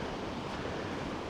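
A small stream, a little burn, flows nearby in a woodland, a steady close rushing wash of water with no pauses and no voices.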